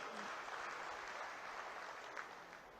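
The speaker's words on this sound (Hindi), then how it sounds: "एक बार जोरदार ताली तो बजाओ सर" Applause from a crowd at a political party gathering, a steady wash of clapping heard faintly and somewhat far off, with no talk over it.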